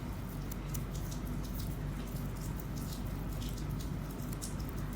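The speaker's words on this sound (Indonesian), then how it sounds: "dari tadi hujan banget" Steady, dense rain hisses on without a break for the whole stretch, a constant wash of patter at moderate level with no talk over it.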